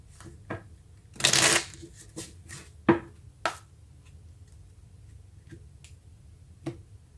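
Tarot cards being drawn and shuffled on a table: a short riffling burst, then scattered soft slaps and flicks as cards slide and are laid down, close and fairly quiet.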